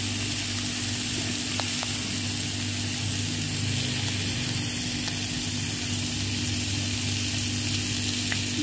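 Pork and mushrooms sizzle steadily in a frying pan over a stove for grilled pork and mushroom salad, a loud continuous crackling hiss with occasional small pops and no voices.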